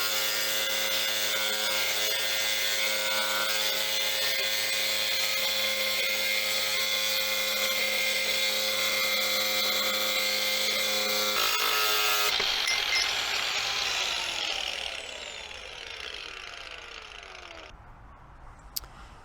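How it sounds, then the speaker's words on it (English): An angle grinder fitted with a diamond blade cuts through tile with a loud, steady high-pitched whine and grinding rasp that holds for several seconds, then winds down as the blade spins to a stop. "So now that we cut through the tile with the grinder"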